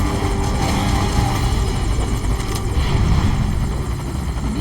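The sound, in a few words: helicopter in video game Metal Gear Solid V Ground Zeroes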